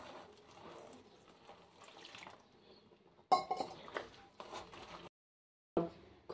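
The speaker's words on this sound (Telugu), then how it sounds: "వాటర్ వేసుకోవాలి." Water is poured into flour mixed with chopped spring onion to form pindi roti dough. Faint, soft liquid trickles and light clinks come in short bursts separated by pauses.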